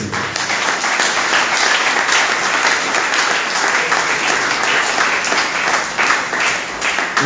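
A church congregation applauding during a sermon: dense, steady clapping from many hands that carries evenly through the whole stretch without a break.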